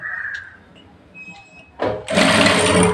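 A sewing machine stitches fabric pieces together at a sleeve joint. After a quiet start with faint clicks, a loud, close, continuous mechanical whir bursts in and runs to the end.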